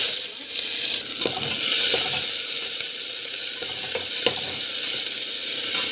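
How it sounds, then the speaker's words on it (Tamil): Mustard seeds, cumin and onion sizzling loudly in hot oil, a bright continuous hiss with a few crackling pops and stirring scrapes, close up with no talking. "ஆயில் போட்டுட்டு நெக்ஸ்ட் வந்து பார்த்திங்கன்னா கடுகு, சீரகம், ஆனியன்,"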